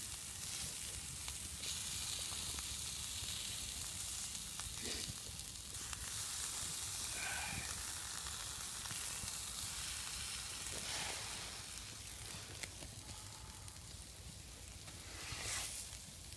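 A bread roll toasts in grease in a pan at a wild hammock campsite, giving a faint, continuous sizzle and crackle with occasional soft scraping, heard alone without talk.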